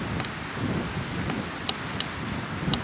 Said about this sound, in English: it is going down a storm